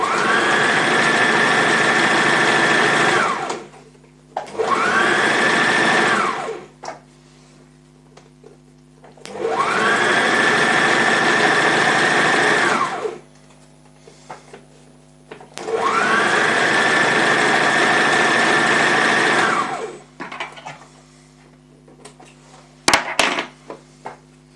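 A sewing machine stitches a full skirt in four long, loud, steady whirring runs, with short stops between them and light handling noises in the pauses.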